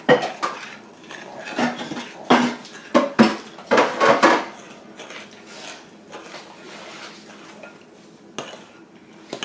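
Dough for grandma's light rolls being stirred in a bowl, with a burst of loud, uneven spoon-on-bowl clatters and scrapes at first, then quieter continued mixing.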